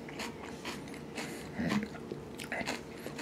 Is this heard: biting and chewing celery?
yes